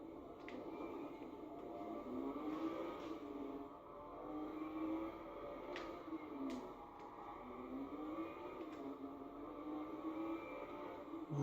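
A Lamborghini engine in the video game Watch Dogs revs in repeated rising and falling sweeps, loud and close, over a steady rumble of game noise.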